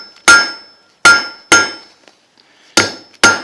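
A hammer strikes hot steel on an anvil while a basic leaf shape is forged: five loud, sharp ringing blows in uneven rhythm, each decaying quickly, close up with no talk.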